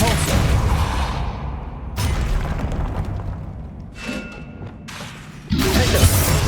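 A Depulso force-push spell fired in Hogwarts Legacy, heard as a series of loud booming thumps and whooshing bursts, several blasts in sequence with brief quieter gaps between them.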